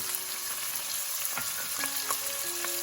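Garlic, chili pepper and cumin sauté in a soup pot, a continuous bright sizzle with a few light stirring clicks, steady and close, no one speaking.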